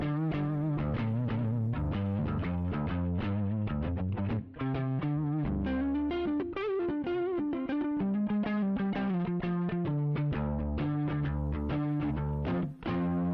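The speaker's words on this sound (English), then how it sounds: "I really adore the era before this in hard rock where guitars sound more like this." Electric guitar in a classic mid-60s hard rock tone, lightly overdriven with a chorus-like shimmer, strums rhythmic chords and short riffs loudly and steadily without any voice.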